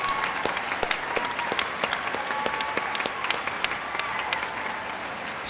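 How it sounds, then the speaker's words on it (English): A large audience at a junior high graduation in District 54 applauds award-winning students for the class of 2025, a dense steady wash of clapping from many hands that holds at an even level throughout. "Please join me in giving these students a round of applause."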